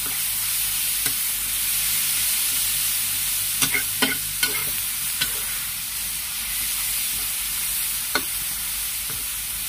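Fermented cassava leaves for pekasam are stir-fried in a pan, giving a steady, loud sizzle with occasional sharp scrapes and clinks of a spatula against the pan.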